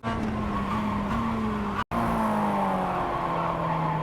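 A Mazda MX-5 in the iRacing video game at Okayama International brakes hard, its engine note dropping through downshifts with falling pitch steps and a brief cut, loud and close with tire noise and no talk.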